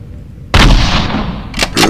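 A shotgun blast in the video game Resident Evil, one loud close boom after a short silence, with a second sharp report following just after.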